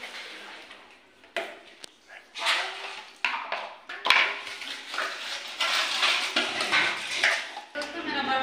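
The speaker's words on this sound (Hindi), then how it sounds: "मैं बर्तन धुल लेती हूँ, दो चार बर्तन है, बर्तन को धुल लेती हूँ" A few pots and dishes are washed by hand in a rustic home kitchen while mutton curry cooks. Irregular metallic clinks, clatters and scrubbing come close by, sometimes sharp and sometimes soft.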